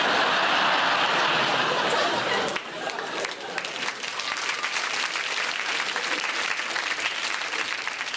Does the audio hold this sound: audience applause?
yes